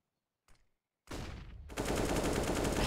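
A Counter-Strike match during an ESL India Premiership esports broadcast: a short faint tap, then a sustained loud burst of automatic rifle spray that grows denser and continues unbroken to the end.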